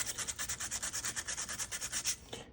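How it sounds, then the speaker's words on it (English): Sandpaper rubs back and forth on a boxcar jaw harp during tuning, a close, steady rhythm of about sixteen quick scratchy strokes that ends abruptly. "Go a little bit more with some sandpaper,"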